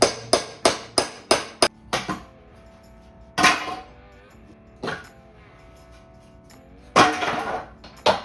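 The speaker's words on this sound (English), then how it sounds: "I'm gonna go back through and take all the nails out of each one of these" A hammer pries up pallet boards and pulls nails, beginning with a quick run of about eight sharp, ringing strikes, followed by scattered louder cracks and scraping thuds as wood and nails give way, close and loud with no talking.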